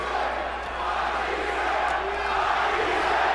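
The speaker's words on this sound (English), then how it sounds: "the crowd is chanting, Matthysse, Matthysse, Matthysse" Boxing arena crowd chanting for fighter Lucas Matthysse during his 2015 bout with Ruslan Provodnikov, a steady, dense roar of many voices that holds at an even level throughout.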